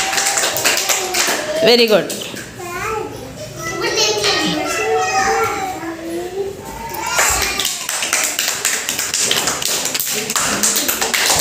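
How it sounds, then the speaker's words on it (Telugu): A group of children at an Anganwadi play-learning activity claps in brisk bursts, close and lively, mixed with children's voices and an adult speaking briefly. "క్లాప్స్ మీరు."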